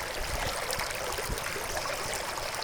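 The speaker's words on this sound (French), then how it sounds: "la cascade de la gerbe d'eau" The La Gerbe d'eau waterfall cascade at Bassin de St-Ferréol rushes in a dense, steady roar of falling water with a low rumble underneath, loud and close, continuous throughout.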